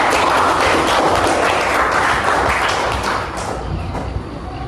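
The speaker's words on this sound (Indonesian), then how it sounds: "Tepuk tangan untuk kita semua." A classroom of children claps together in a steady, dense wash of applause that stays loud throughout and tapers slightly near the end.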